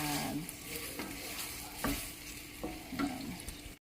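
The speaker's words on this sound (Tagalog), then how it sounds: "nag nagiinit ako ng mantika para sa itlog naman" Cooking oil heats in a pan for frying eggs in a home kitchen, giving a steady close hiss broken by a few sharp clicks and light spatters. No one speaks.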